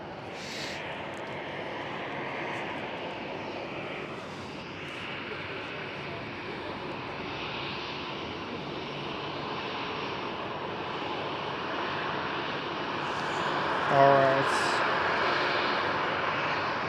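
A distant, steady jet rumble from an EasyJet Airbus A320 departing Schiphol Amsterdam, a low broad drone holding for the whole span, with a short sharper sound near the end.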